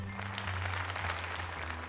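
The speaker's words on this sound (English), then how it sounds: "Why was that the loudest applause known to man?" A dense, steady burst of clapping from a video game crowd, loud and continuous throughout, over a low electronic hum.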